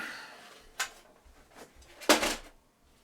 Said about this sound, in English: Right, slip off the cassette.